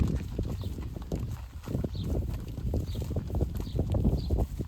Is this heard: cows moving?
yes